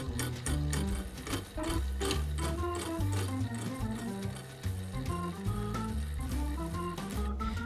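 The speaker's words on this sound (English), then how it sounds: "And now slitting a notch for the dropout." A cutter slits a notch for a dropout on a longtail bicycle frame, a loud, steady machine drone with rapid rhythmic chattering pulses and ringing metallic tones running without pause.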